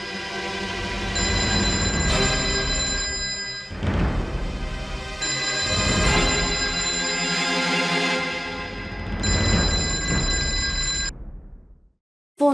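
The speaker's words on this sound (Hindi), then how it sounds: "ये फोन की आवाज कहाँ से आ रही है?" Telephone ringing indoors in a home, a loud repeating electronic ring in long bursts with short gaps, heard alone, stopping just before the end.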